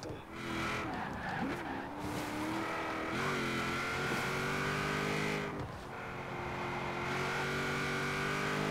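A race car engine revving and shifting through gears in Forza Horizon 4, loud and continuous, with rising and falling pitch sweeps and tire squeal as it corners.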